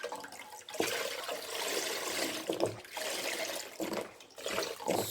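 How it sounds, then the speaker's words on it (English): Milk pours steadily into a pot while homemade condensed milk is being made, a continuous splashing liquid rush that swells and dips over several seconds. It is fairly close, with no talk over it. "So pouring the second milk in."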